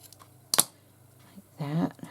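A single quick snip of scissors cutting paper for a journal's front cover, then a short stretch of quiet rustling and soft talk.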